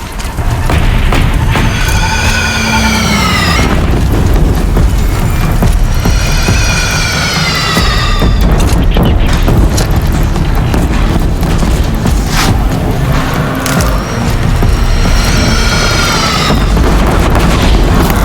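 Cannon fire and explosions in a battle in the video game Horizon Zero Dawn: repeated heavy booms and crashes over a constant loud din, with tonal sounds rising above it at intervals.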